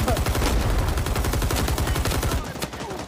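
Dense automatic gunfire in Rising Storm 2: Vietnam, a rapid close rattle of shots that runs nearly nonstop, then breaks off into a few scattered cracks.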